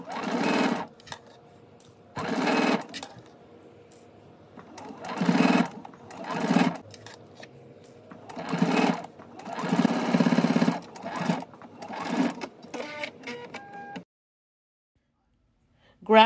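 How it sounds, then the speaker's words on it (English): A sewing machine stitches in the ditch on a dress bodice in several short bursts with pauses between, fairly close, with a brief voice near the end. "now I'm going to stitch in the ditch"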